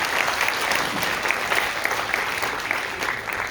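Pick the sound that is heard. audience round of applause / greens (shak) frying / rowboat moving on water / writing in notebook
audience round of applause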